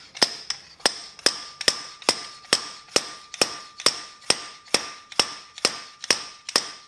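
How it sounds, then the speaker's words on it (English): A Goldwing fork seal is hammered into place with a seal driver, about fourteen sharp metallic hammer strikes in an even rhythm, loud and close with ringing decay and no voices. "It has to be able to sit and bang that seal in"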